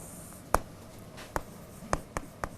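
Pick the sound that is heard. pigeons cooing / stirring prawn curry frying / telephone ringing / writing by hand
writing by hand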